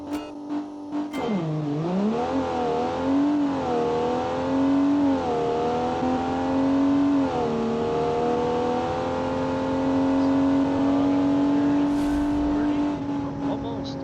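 A 1995 truck with an automatic transmission in a BeamNG drag race, its engine revving up through several rising and falling shifts, then holding a steady high drone at speed, loud and continuous.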